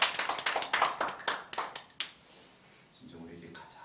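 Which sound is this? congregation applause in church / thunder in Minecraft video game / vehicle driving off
congregation applause in church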